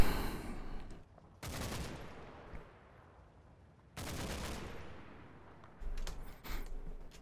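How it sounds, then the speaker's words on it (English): Two heavy mortar blasts in Combat Mission: Battle for Normandy, each a loud boom decaying into a long rumbling tail, followed by a couple of smaller distant impacts near the end. "It's probably our mortars actually"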